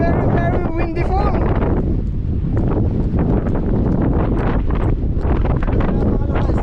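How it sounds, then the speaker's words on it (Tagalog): Strong wind roars against the microphone on a mountain climb of Mt. Batulao, a constant loud buffeting throughout with a person's voice partly heard under it. "Napakalakas ang hangin, oh."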